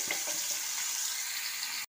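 A whole large onion fries in hot oil with cardamom and clove, giving a steady, even sizzle close by that runs without a break and cuts off abruptly at the end.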